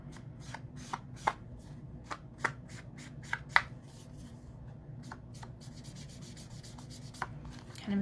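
Dry rubbing and brushing strokes as ink is worked along the edges of a handmade card to give it a worn look, a steady series of soft scuffs with occasional sharper taps, close up and without speech.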